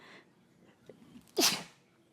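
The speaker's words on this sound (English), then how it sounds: "Hold up, you guys, I want to sneeze." A single close sneeze bursts out after a quiet breath, brief and sharp against a faint background.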